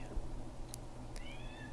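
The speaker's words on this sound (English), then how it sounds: "I apologize if you can hear my cat in the background" A cat meows twice nearby, the second call longer and rising, over a quiet room hum.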